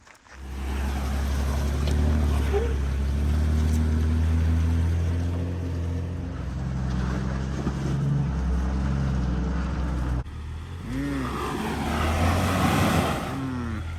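A Jeep Cherokee engine labours steadily as the vehicle crawls up rough off-road terrain, a loud, continuous low drone that shifts pitch now and then, with a brief break near the end followed by strained revving.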